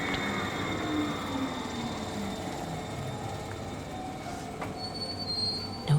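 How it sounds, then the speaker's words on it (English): A night train slows to a halt, wheels squealing in long high-pitched tones over a steady rail rumble, with faint clicks and a brief clunk at the end. "At 2:15 a.m., the train stopped."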